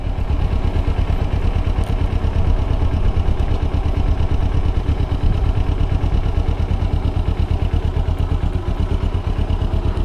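A 2009 Kawasaki Ninja 250R Limited Edition motorcycle idles steadily nearby, its engine giving a constant, even run of pulsing beats with a light mechanical clatter and no voices.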